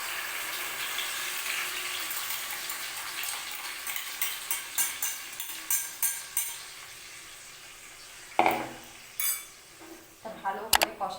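Spice paste frying in hot oil for a Bengali chicken curry, a soft sizzle broken by rhythmic spoon scrapes against the pan and a few sharper metal knocks near the end.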